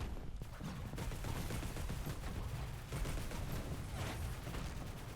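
Turrets open up on enemies in an FPS roguelike video game: dense, continuous rapid gunfire with layered shots and impacts, loud and steady throughout without talking.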